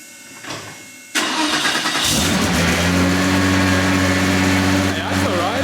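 A Porsche 964 Turbo engine fitted with a newly fabricated exhaust cranks and fires, then settles into a loud, rumbling idle close by, with a voice in the background.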